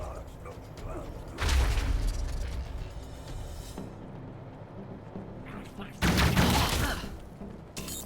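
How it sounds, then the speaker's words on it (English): Gunfire from a firefight in the video game Wasteland 3, with two loud bursts of shooting and impacts over a constant background of battle noise, while a voice talks over the game audio. "They're shooting as if that wall isn't there."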